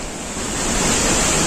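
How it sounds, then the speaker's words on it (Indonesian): Langkuik Tinggi waterfall in West Sumatra roars as a dense, steady rush of falling water that swells slightly louder and stays close and continuous, with no voices. "di belakang kita, nah itulah air terjun Langkawi Tinggi"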